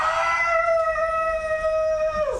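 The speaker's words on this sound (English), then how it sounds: "There is a loud noise of dogs baying" A single long, high howl of baying dogs in a student stage play holds a steady pitch for about two seconds, then drops away abruptly, loud and close with no talking.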